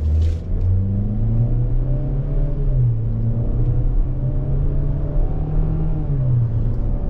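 A 2024 Chevrolet Equinox RS SUV's loud engine hums steadily as it picks up speed, its pitch rising and holding, with a low road rumble underneath.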